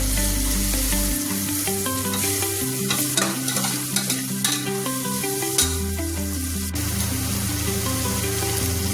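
Onions frying in a pan while khichadi is cooked, a steady loud sizzle with stirring scrapes over a background of droning music, with no talking.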